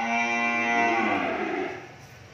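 A French-breed cow on a cattle farm lets out one long, drawn-out moo, close and clear, fading away at the end with no other sounds around it.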